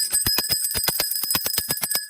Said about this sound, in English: Let me ring my bell.